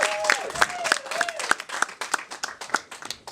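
A stand-up comedy audience claps and whoops for comic James Hammond: brisk, rhythmic clapping close by, with a rising whistle-like cheer near the start and scattered hand claps popping out of the crowd throughout.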